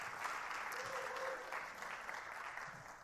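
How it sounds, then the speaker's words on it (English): A church congregation applauds a guest on Father's Day, a sustained, dense wash of clapping that fills the room and holds steady, with a voice faintly heard under it. "that's the most rousing cheer we've ever had for a guest"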